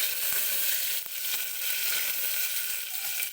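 Curry leaves sizzling in hot oil with popping mustard seeds, cumin and garlic, a loud, dense hiss of frying with a few sharp crackles, steady and close.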